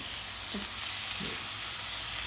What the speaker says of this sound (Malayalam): തക്കാളിയും പച്ചമുളകുമാണ് ഇട്ടിട്ടുള്ളത്. ഇത് നന്നായി മിക്സ് ചെയ്യാം.